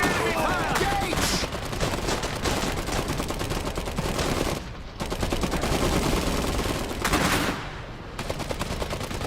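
Dense, continuous gunfire from the real-time strategy game Iron Harvest, with rapid overlapping shots and bursts filling the whole stretch, dipping briefly twice before resuming at full intensity.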